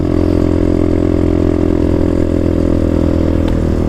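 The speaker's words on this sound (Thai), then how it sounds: "วันนี้เรามาขับวิบากกันนะครับผม" A dirt bike engine runs steadily and loudly close by, a continuous motorcycle drone with a rough, clattering edge and no talking.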